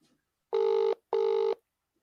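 Two long ringback tones of an outgoing phone call sound through a line, each about half a second, separated by a short gap, clear and steady with silence before and after.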